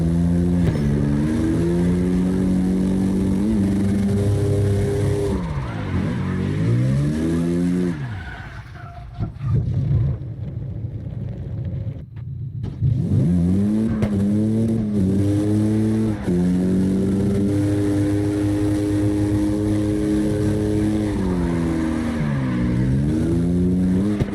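Porsche engine roaring and wailing as it drifts in CarX Drift Racing Online, a loud sustained note rising and falling with revs, dipping briefly mid-way before climbing back to full throttle.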